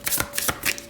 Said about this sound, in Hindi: तो चलिए शफल कर लेते हैं कन्या राशि वर्गो साइन के लिए